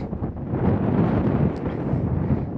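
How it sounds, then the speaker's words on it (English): Steady wind buffets the microphone outdoors on a family camper trip in the Lake District, producing a continuous, close, rumbling roar with no clear voices. "You're not going to be able to hear me very well with the wind"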